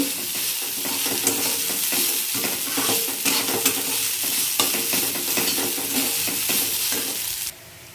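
Poha (flattened rice) with salt gets stirred in a frying pan, a loud continuous sizzle under repeated scraping strokes of a spatula, ending abruptly with no talk.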